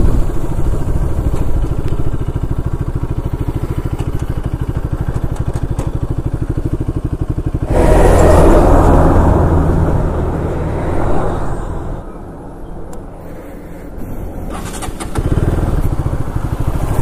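A Bajaj Pulsar RS200 motorcycle engine drones steadily while riding on a winding road, with wind rumble and a surge in loudness midway, then a brief quieter stretch before the engine noise picks up again.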